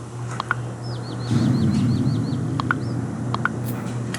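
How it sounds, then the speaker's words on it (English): Small birds chirp in a video game, with a quick run of repeated high chirps followed by scattered short calls, over a steady soft ambient bed with occasional faint clicks. "you could probably hear the birds chirping"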